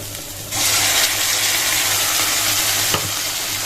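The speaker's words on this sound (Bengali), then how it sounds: "মশলা তখন ভালো করে কষিয়ে নিই" Ginger, cumin and mixed spices hit a pan of already-fried onion, bursting into a loud, steady sizzle that holds throughout, with a brief clatter near the end.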